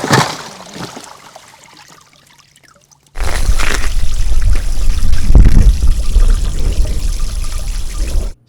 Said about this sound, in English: So we're gonna pump it out.